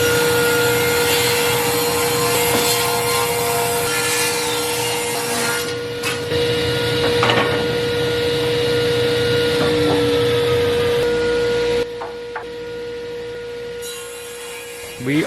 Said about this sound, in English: We are ripping these boards on the table saw and then the bandsaw to reduce their size